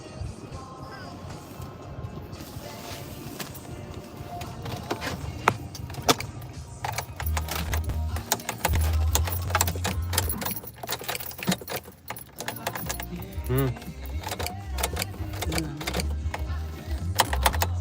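A car key jangles and clicks as it is jiggled while stuck in the ignition, with repeated metallic rattles close by and an engine murmuring underneath.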